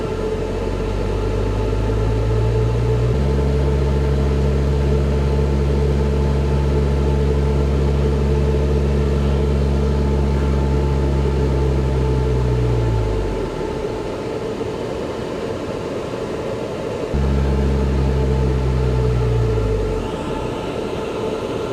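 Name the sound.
vertical axis wind turbine running on a dynamometer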